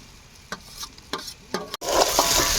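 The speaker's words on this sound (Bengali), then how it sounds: "বেশ করে নাড়াচাড়া করে নেব" Chopped vegetables with tomato frying in a pan, with a few spoon scrapes and stirring knocks before the sizzle swells into a loud, continuous hiss.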